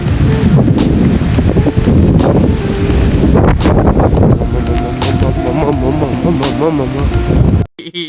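Strong wind buffeting an outdoor microphone, a loud continuous roaring rumble with heavy gusts throughout that eases slightly near the end before cutting off.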